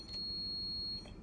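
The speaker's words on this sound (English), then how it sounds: "you've got your driver's buzzer." The driver's buzzer in the cab of a Class 43 HST in the game Train Sim World 3 gives one steady, high-pitched electronic tone for about a second over faint background hiss.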